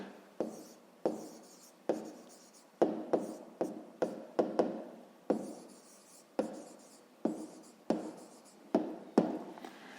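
Close pen strokes on paper while a math answer is written out for a school exercise, about a dozen scratchy bursts at an uneven pace, quiet and with no voices.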